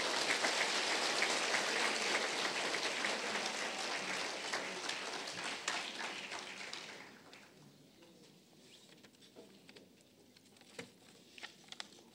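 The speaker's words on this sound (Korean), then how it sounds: "여러분 큰 박수로 맞아주시기 바랍니다" An audience claps to welcome a speaker at a ceremony marking the anniversary of the October 4 inter-Korean summit declaration, a dense loud patter of many hands that fades after several seconds into scattered faint claps.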